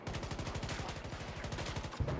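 Rapid automatic gunfire in Battlefield 2042, a steady stream of sharp close shots at an even fast rhythm for about two seconds, ending in a heavier burst.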